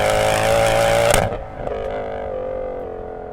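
A Mercedes C63 AMG engine with traction control off roars loudly at high revs, then drops sharply off throttle into a lower, steady drone with a few crackles, heard close with no talking.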